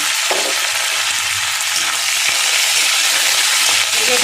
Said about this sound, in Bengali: একটু কারি পাতাটা একটু ভাজা ভাজা করব।